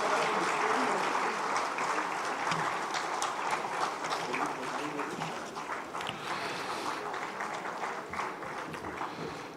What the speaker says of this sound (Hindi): तालियां थोड़ी बजती रहनी चाहिए पीयूष जी से।